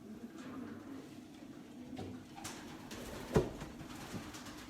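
Racing pigeons in a stock breeding loft coo steadily in a low, continuous murmur, with a few sharper knocks and flutters breaking through near the end.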